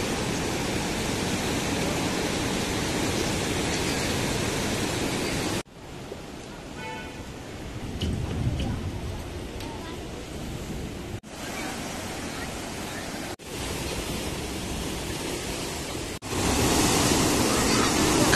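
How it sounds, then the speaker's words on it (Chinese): The Bailong River, swollen after days of rain, rushing loudly beneath an iron bridge as a continuous roaring wash of water with wind buffeting the microphone, broken by a few abrupt cuts. "看一下这个水流急不急"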